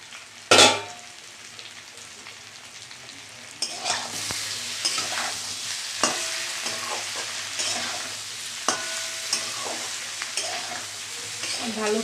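Chhana bora curry with potatoes fries in a pan, opening with a sharp metallic clang before a strong sizzle resumes, overlaid by repeated spatula scrapes and taps in an irregular rhythm, close up.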